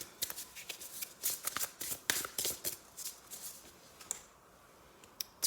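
A deck of Priestess Light Oracle cards is shuffled by hand, producing quiet, close riffling flutters and soft clicks in quick irregular bursts, with a brief pause near the end and no talk.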